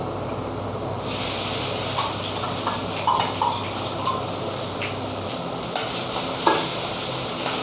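Tomatoes and turmeric frying with mustard seeds in hot oil, a loud steady sizzle that swells after a quiet start, with occasional spoon clinks and scrapes, close up and without talk.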